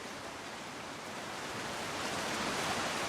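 Steady rushing roar of a waterfall in the video game The Long Dark, broadband and continuous, swelling slightly louder toward the end with no voices.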